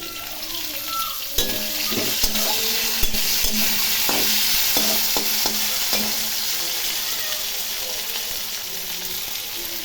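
Potatoes frying in a pan with spring onion make a loud, close sizzle overlaid by a run of rhythmic spatula knocks and scrapes against the pan, then settle into steady frying without speech.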